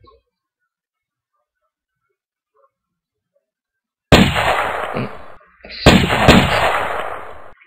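Two sharp, booming sniper rifle shots ring out in a video game after a long stretch of near silence, each one loud and close with a rolling echo tail.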